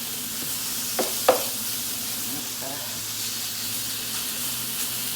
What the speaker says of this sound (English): So I'm just going to brown this, and this doesn't take very long to brown your meat.